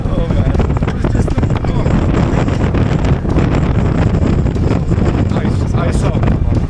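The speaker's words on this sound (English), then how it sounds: "Oh my god, it's so windy here." Strong wind buffeting the microphone outdoors during a 4x4 trip in a Pajero through flooded ground, a loud constant roaring rumble with voices faintly underneath.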